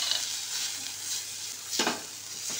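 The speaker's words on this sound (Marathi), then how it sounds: "वाटण छान भाजून घ्यायचं आहे आपल्याला" A ground spice paste with cumin roasts in hot oil, giving a soft continuous sizzle broken by a couple of louder scraping stirs, close and heard alone.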